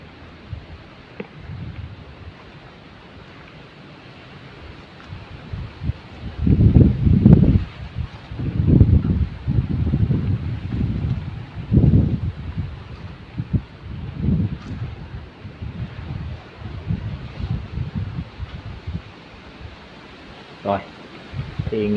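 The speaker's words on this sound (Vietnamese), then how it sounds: "ngày nào ở đây cũng nổi gió lên ầm ầm đây, quay trời gió rồi" Strong wind gusts roar across an open site by an old tomb, buffeting the microphone in loud surges partway through. Rustling noise continues underneath, and someone talks throughout.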